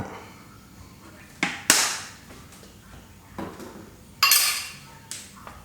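Garlic, coriander root and pepper paste stir-fried in a little oil over low heat for a bamboo shoot and pork bone soup: a few sharp spatula clanks against the pan, spaced apart over a quiet background.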